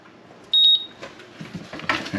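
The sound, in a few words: Cannon safe keypad buzzer beeping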